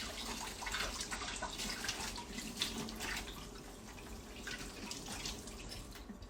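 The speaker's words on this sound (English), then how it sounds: "I'm gonna wash my hands." A kitchen tap runs steadily while hands are washed during pie baking, giving a continuous, moderately loud rush of water with no pauses.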